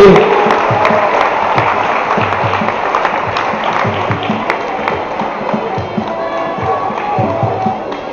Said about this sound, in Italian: un grande applauso agli atleti